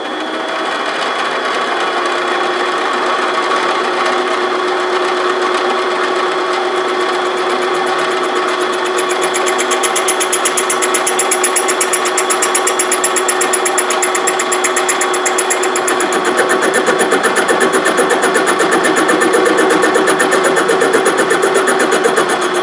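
A propane forge with a Reil style burner lit and running in a driveway, a loud continuous roaring hiss with a steady mechanical whine that swells slightly partway through, no voices.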